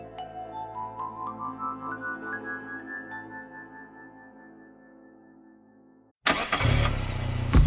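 A car engine cranks over with a rhythmic, gradually fading whir for several seconds, then catches and roars to life, settling into a loud, steady idle.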